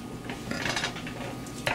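Silicone spatula stirring egg in a cooking pan, with soft scraping and light clinks in short irregular bursts, close and moderately loud.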